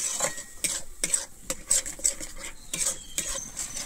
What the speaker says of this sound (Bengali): আমি দইটা দিয়ে কিন্তু খুব ভালোভাবে এখানে নাড়তে থাকবো, নাহলে কিন্তু দইটা ফেটে যাবে